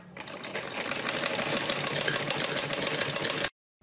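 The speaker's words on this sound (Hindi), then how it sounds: "इन निशानों के ऊपर सबसे पहले सिलाई लगाएंगे" A sewing machine runs steadily, stitching along the marked lines on a kurti sleeve, in one fast, even burst of needle chatter that stops abruptly after about three and a half seconds.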